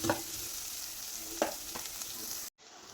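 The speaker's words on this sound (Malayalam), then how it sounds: "കറിവേപ്പില അതുകൂടി ഇട്ട് കൊടുത്തൊന്ന് എല്ലാം കൂടി ഒന്ന് ഇളക്കി കൊടുക്കാം." Garlic, ginger, green chillies and curry leaves fry in a pan with onion, a steady faint sizzle broken by a few spoon scrapes before cutting out near the end.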